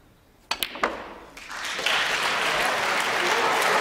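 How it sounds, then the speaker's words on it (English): Snooker crowd at the 2014 UK Championship breaking into applause after a pot, starting with a few sharp claps and swelling into steady, loud clapping that carries to the end. "every pot gets a big round of applause"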